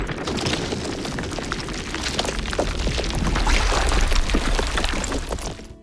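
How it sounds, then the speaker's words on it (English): Towers of glacier ice crashing into a lake in Patagonia, a heavy roaring rumble with crackling bursts that swells and then fades, dense and loud throughout. "they plunge into the water below with explosive force, sending waves racing across the lake"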